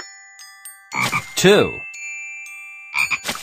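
Cartoon frogs croaking in a children's counting video game, bright synthetic croaks with jingly chimes and a child-friendly narrator voice speaking between them, loud and close.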